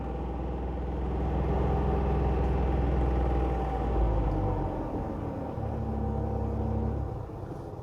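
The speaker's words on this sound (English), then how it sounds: "It sounds absolutely horrendous, the aircon compressor" The air-conditioning compressor of a Dacia Jogger runs, heard from inside the car as a heavy, steady low droning rumble with a faint whine on top, holding level for several seconds before easing off.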